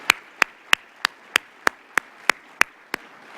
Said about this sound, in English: we should give them another big round of applause